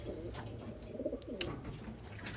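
Pigeons cooing in a small batch of freshly delivered birds, soft low repeated coos close by over a faint hum, with a brief higher chirp.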